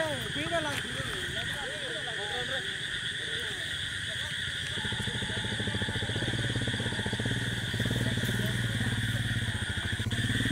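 Motorcycle engines idling and rumbling on an off-road climb toward Galikonda view point near Araku, part of a group of five bikes; steady mid-pitched engine drone with clatter, joined by chatter from riders.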